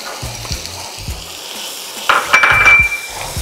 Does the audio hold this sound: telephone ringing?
no